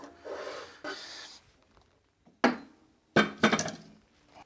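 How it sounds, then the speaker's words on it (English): A drill bit is taken out of a drill after boring a hole for a DIY carbide-tip scribe, giving a few short, close metallic clinks and rattles separated by quiet pauses. "now I will take out the drill bit"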